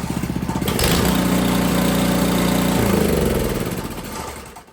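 An Ariens Platinum 24 snowblower engine runs close and loud at a steady idle, rising briefly in speed before settling back and fading at the end, with no one talking over it.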